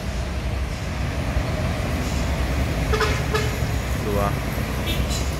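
A Gumarang Jaya tour bus rumbles past on the road, a steady broadband roar of engine and tires with traffic noise all around, loud and continuous.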